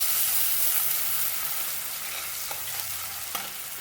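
Grated onion frying in hot oil for chicken biryani, a loud steady close sizzle with a couple of faint stirring scrapes toward the end.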